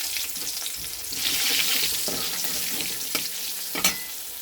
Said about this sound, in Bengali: এবার তেলের মধ্যে দেবো একটু কালো জিরে